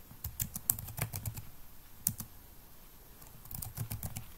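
Clicky computer keyboard typing in short bursts, with a pause in the middle, near and clear with no talking, while text is entered into a Word form.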